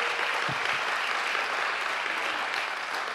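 Church congregation applauding a preacher mid-sermon, a steady, dense wash of clapping from many hands that holds at an even level for the whole stretch, with no voices rising above it.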